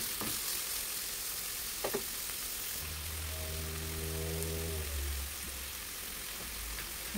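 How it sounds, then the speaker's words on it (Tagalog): Beef goes into a hot pan for a Filipino menudo stew and sizzles steadily while being stirred, with a few sharp scrapes and a low humming drone partway through. "Ilagay na natin yung karning baka. Ayan, halu-haluin muna natin."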